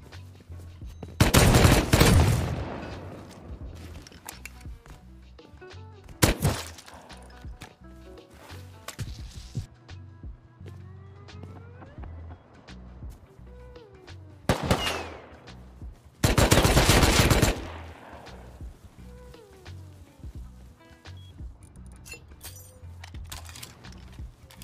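Automatic turret gunfire in the Rust video game, with loud sustained bursts of rapid shots around 1–3 s and 16–18 s, shorter bursts between, and quieter clicks and footsteps in the gaps.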